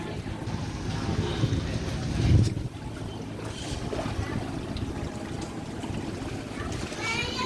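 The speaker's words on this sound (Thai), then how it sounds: "มาแล้วมาแล้วเรือมาแล้วเรือมาแล้ว" A ferry boat pulls in on the Chao Phraya river near Wat Bang Na Nok, its engine a low, steady rumble buried in wind buffeting and riverside bustle, while someone talks over it throughout.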